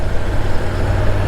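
A truck drones loudly on a road on Gran Canaria as a motorcycle pulls past it, a heavy low engine rumble that stays steady and close throughout.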